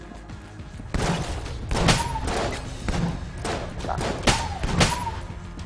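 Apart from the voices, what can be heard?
gunfire in the video game Enter the Gungeon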